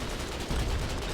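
Gunfire in the war game Foxhole, a dense burst of muffled shots and rumbling impacts over about a second, fairly quiet in the mix.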